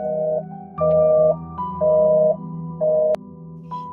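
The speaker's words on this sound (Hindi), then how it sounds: "फोन की दूसरी तरफ से सिर्फ व्यस्त होने की आवाज आ रही थी" A steady repeating telephone busy signal, pulsing on and off in even beats, loud and close with no voices.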